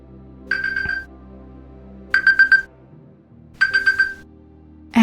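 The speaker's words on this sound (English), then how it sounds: "that is another timer for me, which is telling me that I have to lie down and rest" A timer alarm going off indoors, three separate bursts of rapid electronic beeping spaced about a second and a half apart, loud and clear over a quiet background.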